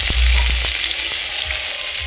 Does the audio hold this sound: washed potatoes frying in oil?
yes